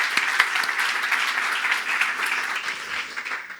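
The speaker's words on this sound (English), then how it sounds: "Round of applause for Rettore, please." Audience applause at a conference talk on technology and AI, a steady wash of many hands clapping that fills the hall at moderate loudness and carries on evenly without voices.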